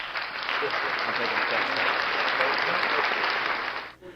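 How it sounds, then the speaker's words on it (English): Applause from a crowd at an air hockey tournament, a dense, steady wash of many hands clapping for about four seconds before it quickly dies away. "So we're going to do an applause for Mark Wahid."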